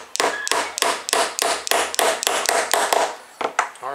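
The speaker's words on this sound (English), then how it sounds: "We're going to knock a piece of 5mm dowel into a wheel." A 5mm wooden dowel is knocked into a toy carousel wheel with about a dozen sharp, evenly spaced hammer taps, close and loud, followed by a short pause and a couple of final blows.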